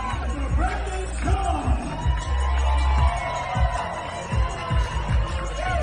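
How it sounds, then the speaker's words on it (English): A crowd at a venue cheers and shouts steadily with whoops and yells, loud and continuous, mixed with a deep low hum. "Saw that crowd."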